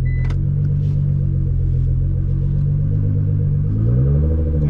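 A Nissan R35 GT-R engine rumbles deep and loud from inside the car while driving, holding a steady low drone that swells and rises in pitch near the end as it accelerates.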